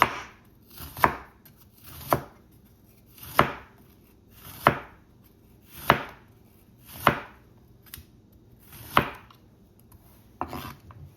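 Knife chopping onion and pepper on a board for Jamaican curry chicken: about ten firm, evenly spaced strikes, close and crisp, with no voices.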